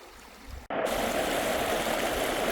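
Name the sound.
river water flowing around a wrapped canoe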